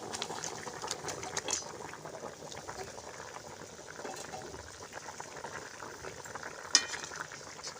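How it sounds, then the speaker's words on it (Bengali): Fried koi fish going into a pot of potato curry that has been boiling for ten minutes, giving a steady bubbling simmer with light stirring and a brief clink near the end, close up and fairly quiet. "আমি ভেজে রাখা কইয়ের মাছগুলো দিয়ে দেবো"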